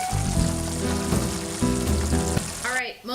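Ginger, lemongrass and lime peel hit hot oil for steamed mussels, giving a loud close sizzle while being stirred, with a spoon scraping the pan throughout.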